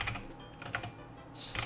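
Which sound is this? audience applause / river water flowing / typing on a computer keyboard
typing on a computer keyboard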